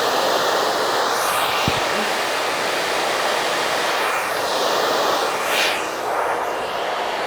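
A hair dryer blows hair dry with a loud, continuous whoosh that rises and falls in pitch as it moves close and away. It runs for several seconds with no talk.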